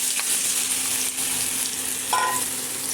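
Cut pointed gourd and potato pieces fry in oil in a wok with a loud, close, continuous sizzle, broken by a few clinks and scraping stirs.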